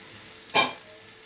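Onion, garlic and ginger fry in a pan, a faint background hiss broken by one brief loud burst of sizzle, likely as a lid is lifted, then settling back to a quiet fry.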